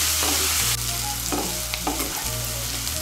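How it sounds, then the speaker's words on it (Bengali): Vegetables sizzling loudly in a hot pan on high heat, with a spatula scraping and stirring through them in quick bursts over a constant frying hiss. "এই দেখুন আঁচটাকে বাড়িয়ে আমি সবজিগুলোকে ভেজে নিয়েছি"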